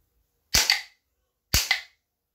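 Two sharp snapping wooden toy-gun shots about a second apart, each a crisp crack followed by a quick rattle, loud and close with silence between.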